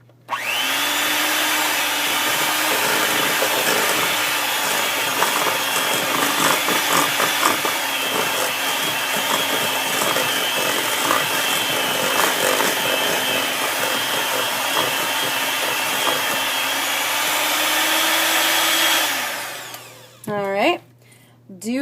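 An electric stand mixer whirs steadily at low speed through chocolate chip cookie dough for close to twenty seconds, a loud even motor drone that winds down and stops, followed briefly by a voice.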